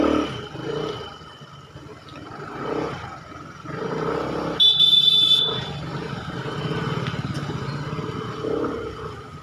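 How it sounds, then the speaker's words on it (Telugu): A Vespa scooter engine running at riding speed gives a continuous rough drone that swells and eases, with a brief high whine partway through. "సో రన్నింగ్లో స్పీడ్లో ఉన్నప్పుడు ఎలా వస్తుందో మీకు చూపించబోతున్నా."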